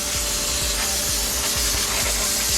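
Brake cleaner sprays in a loud, continuous hiss onto brake parts during a pad and rotor change, with faint rhythmic knocks beneath and no talking.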